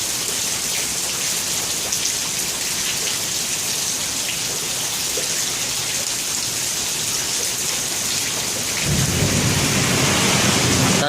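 Heavy rain hisses steadily through a thunderstorm near a bridge until a deep, loud rumble of thunder rolls in near the end and keeps building.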